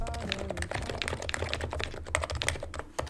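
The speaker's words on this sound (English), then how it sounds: "I also got really weirdly into keyboards." Typing on a computer keyboard, ASMR-style: close, crisp rapid clicks of keys in irregular bursts, quiet and alone with no talking.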